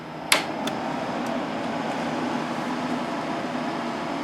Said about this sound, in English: These are the fastest LED fans I have ever been able to find in existence